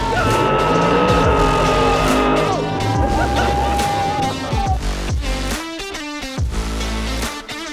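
Monster trucks at a live monster truck show, engines roaring loud and close with revving pitch sweeps and tire squeals, a steady din of crowd and arena noise underneath.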